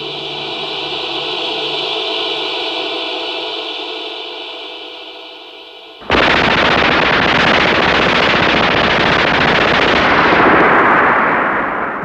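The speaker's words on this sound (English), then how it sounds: "The German machine gun rattled non-stop." A German machine gun rattles in a long, continuous burst that begins abruptly, loud and dense, holding steady without pause after a stretch of droning tone.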